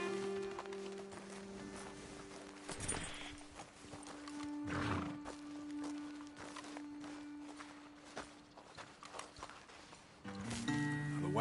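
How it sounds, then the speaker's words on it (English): Horses in Red Dead Redemption 2 stand after their riders dismount. Hooves clop and shuffle, and a whinny rises near the middle. Game ambience runs steadily underneath at moderate level. "Best leave the horses back a bit."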